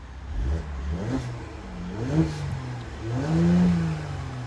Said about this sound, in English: So let's hear me rev it up on comfort.